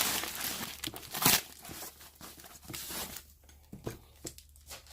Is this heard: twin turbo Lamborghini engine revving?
no